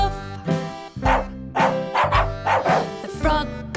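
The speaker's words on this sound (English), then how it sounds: "The dog goes woof." In a children's sing-along song for toddlers, a dog's woof, apparently voiced by a singer, comes as a few loud, bouncy barks over bright, cheerful music.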